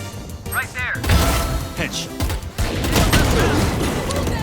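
Bursts of rapid gunfire from the video game Valorant crackle loud and close, overlapping an excited voice talking throughout.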